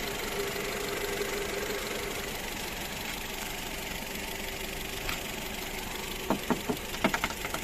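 A Skoda Octavia car engine idles at a steady, even rumble with a light mechanical ticking, joined by a few sharp clicks and taps near the end.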